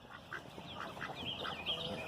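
Several ducks quack faintly in the distance at a small farm duck pool, with short scattered calls over a soft background hiss.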